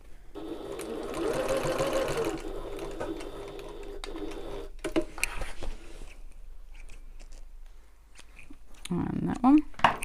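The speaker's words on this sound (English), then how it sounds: "I'm just stitching over those two seam allowances to keep them open" A sewing machine runs steady stitches across two seam allowances of a shoulder bag, a close, even whirring run that stops, followed by small clicks and handling noises.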